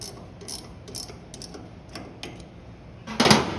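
A hand ratchet snugs up bolts on a firewall-mounted power brake booster on a 1954-1955 Chevy truck, giving a series of quiet clicking bursts followed by a louder, closer ratcheting burst at the end.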